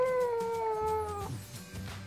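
A chihuahua howls from under a blanket late at night, one drawn-out, slightly falling wail that breaks off into muffled rustling, close but subdued.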